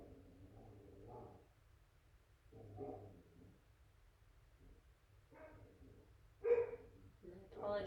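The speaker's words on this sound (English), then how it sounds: "if you can hear my dogs playing in the background" Dogs bark and yip in the distance in scattered bursts, faint and playful, while a person talks quietly in between.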